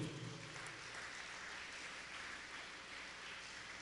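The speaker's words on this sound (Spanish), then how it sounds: "¿Cuánto un aplauso al Hijo de Dios?" Congregation applauding during a church sermon: a steady, dense wash of clapping with no pauses, sustained at an even level for a few seconds.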